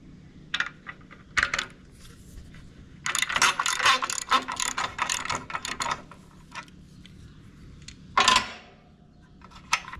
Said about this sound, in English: got to undo 3 bolts right there, and one on this side right there in order to move the radiator out of the way